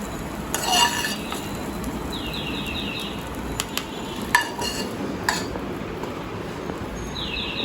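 Cooked egg noodles are served from a pan, with metal utensils clinking and scraping against cookware in a few scattered bursts over a steady background hiss. No one speaks.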